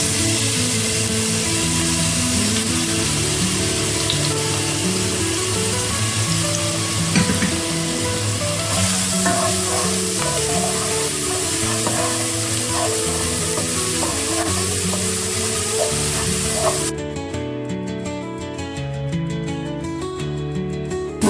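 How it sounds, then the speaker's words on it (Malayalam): Crushed garlic and ginger sauté in a pan for chicken cutlets, sending up a loud, dense, continuous sizzle close by that carries on unbroken and softens slightly toward the end. "വെളുത്തുള്ളി ഇഞ്ചി എല്ലാം കൂടി കിടന്ന് വഴലുന്ന നല്ലൊരു മണം വരുന്നുണ്ട്"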